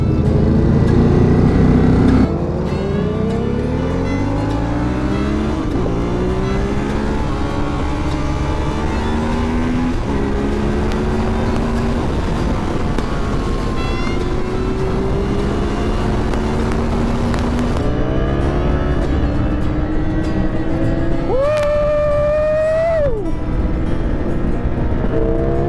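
Ducati motorcycles lapping a race track, engines loud and continuous with rising and falling pitch as they accelerate and shift through gears, a sharp high whine near the end.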